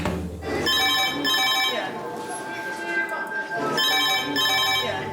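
A red emergency phone rings in a hospital A&E department at King's, its electronic bell sounding in two clear bursts with a pause between them, close and loud, while staff talk over the ring.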